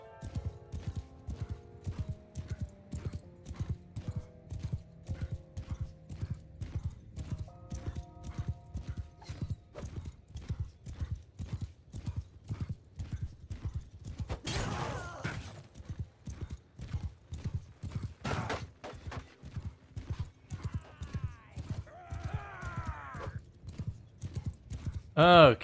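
Horses in a video game battle: steady rhythmic hoof clip-clop runs throughout, with occasional neighs and short bursts of battle noise, moderately loud. Voices appear briefly.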